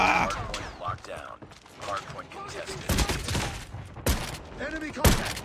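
Bursts of gunfire ring out in a first-person shooter hardpoint match, with rapid shots coming in clusters and sharper loud cracks toward the end, mixed with game voice callouts and a player talking.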